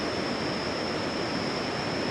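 Khone Phapheng waterfall on the Mekong River in Laos, a dense continuous rush of water, steady and fairly loud throughout with no voices.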